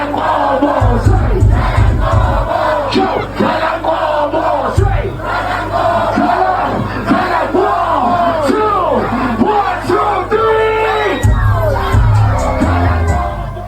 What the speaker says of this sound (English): you guys can see that the crowd is bumping